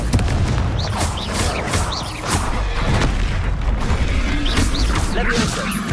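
Heavy booming blasts and crashing impacts from spells such as Confringo in Hogwarts Legacy, a dense run of loud explosions and clattering hits with a shouted voice over the top.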